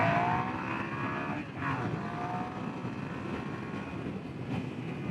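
A Suzuki SV650 motorcycle rides and accelerates along a road, its engine note faint and distant under heavy wind rush, rising in pitch briefly early on.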